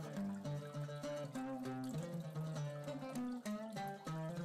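Water pours steadily into a cooking pot for freekeh, a continuous close splashing and gurgling stream without speech.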